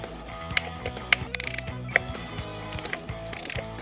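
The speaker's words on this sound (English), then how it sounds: "You're going to need your socket wrench and your T27 torque bit." Socket wrench ratcheting out the bolts of a Harley Davidson primary cover: a steady, close mechanical pawl clicking that runs throughout, with a few brighter metallic ticks, and no one speaking.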